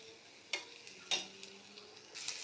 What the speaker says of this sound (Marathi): तुम्ही बघू शकता इथे चमच्याने मी चमच्याने छान मॅश करून घेत आहे.